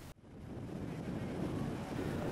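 Surf and wind at Watu Pecak beach in Lumajang, East Java: a steady, loud wash of breaking waves with wind buffeting the microphone, continuous after a brief dip at the start.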